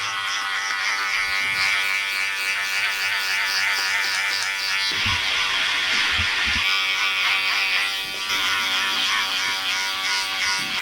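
Electric hair clippers fitted with a number 2 guard buzz steadily close by while cutting hair, the motor tone dipping slightly and scraping in a few spots as the blade moves through.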